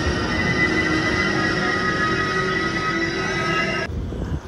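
Steady running noise inside a full AC coach of the Kondaveedu Express, a broad rumble carrying a sustained tonal whine that cuts off near the end, leaving a quieter rumble.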